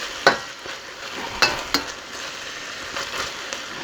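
Shrimp frying in a pan make a constant close sizzle, with sharp metallic clinks from a utensil scraping and stirring the pan at irregular moments.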